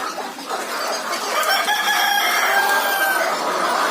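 Laying hens in a poultry coop call out, with one drawn-out, crow-like vocalization rising over a busy background of fowl sounds and no speech.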